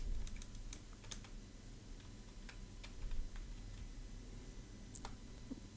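Quick, light key clicks from someone typing a password on a computer keyboard, in irregular bursts and single taps, close and fairly faint over a low steady room hum.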